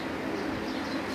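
Pigeons coo steadily on a rooftop loft belonging to a fancier, a low continuous murmur of soft throaty calls from several birds close by with no talking.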